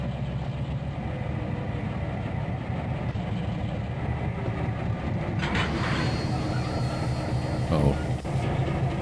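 A train in the video game Trainz 2022, with a steady low diesel engine rumble and rolling noise that builds slightly toward the end. A person talks over it.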